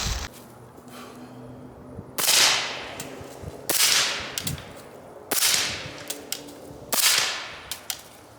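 Four subsonic .300 Blackout rifle shots ring out at even intervals, each a sharp crack with a ringing decay, with small clicks and handling sounds between them and no talking.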